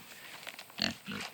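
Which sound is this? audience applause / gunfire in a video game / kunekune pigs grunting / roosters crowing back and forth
kunekune pigs grunting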